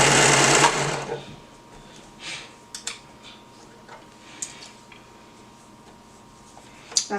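A serger runs through fabric in a loud burst at the start, then a scatter of faint clicks and ticks follows as the fabric is handled.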